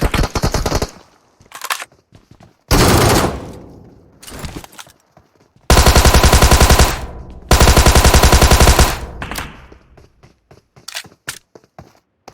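Bursts of automatic gunfire in PUBG Mobile, two long sustained volleys and a few shorter ones separated by quiet gaps, loud and close with scattered single shots.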